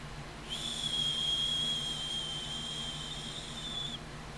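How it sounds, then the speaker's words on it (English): A single shrill, piercing Aztec death whistle cries out steadily for about three and a half seconds, harsh and sustained against a quiet background. "the Aztec war whistle"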